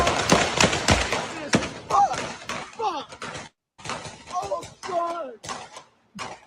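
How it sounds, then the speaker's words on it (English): Overlapping rifle gunfire from a shootout in Austin, Texas: a dense burst of sharp bangs in the first second and a half, followed by someone talking broken by a few fainter cracks. "So that's got to be the shootout because there's overlapping gunfire."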